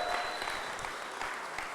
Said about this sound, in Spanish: Dale un aplauso fuerte a Dios